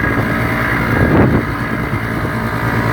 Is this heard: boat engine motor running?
yes